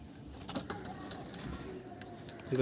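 Soft, low cooing of a pigeon, quiet and somewhat distant, over faint background noise.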